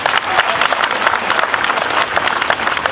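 A church congregation at Father Guy Gilbert's sermon applauds the police in a steady, dense wash of clapping that holds at an even level from start to finish.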